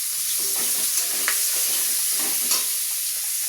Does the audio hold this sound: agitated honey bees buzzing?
no